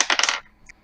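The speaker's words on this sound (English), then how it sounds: "I heard you roll your d20." A metal d20 die rolling on a table: a quick burst of bright, ringing clatters for under half a second, then a couple of faint metallic tinks as it settles, close and alone.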